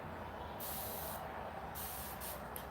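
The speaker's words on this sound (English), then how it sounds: "Of course, you need your spray bottle of water." Several quick hissing sprays of water from a pump spray bottle, misting hair, spaced unevenly, with one longer mist followed by shorter bursts over a quiet background hum.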